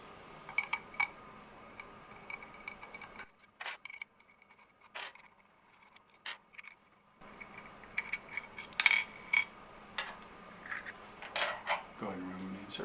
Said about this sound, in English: 5/32 Allen wrench to remove the screws from the top of the insert.